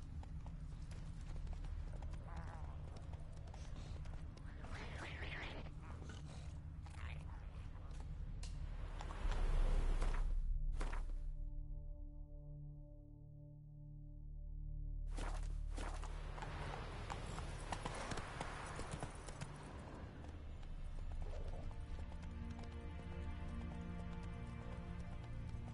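Roach, a horse in The Witcher video game, clip-clops along with rhythmic hoofbeats, interrupted by a brief sustained tonal sound mid-way before the steady trotting resumes with ambient game audio.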